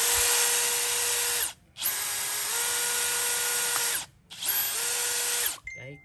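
A Bosch GSB18V-535 18V cordless drill, a three-function model, runs in three sustained bursts of steady high-pitched whirring with brief pauses between them, close and loud, with no talking.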